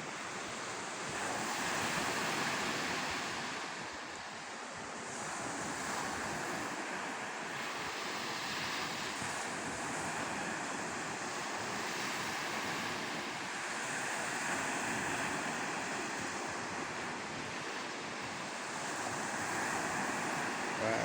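Sea waves surge continuously while strong wind buffets the microphone, a steady loud roar with no voices.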